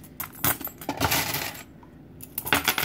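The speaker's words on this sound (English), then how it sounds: "you put into your coin into the coin container" Coins spill and clatter into a coin container in a rapid, bright jingling cascade, loud and close, with a short pause midway before another burst of metallic clinks.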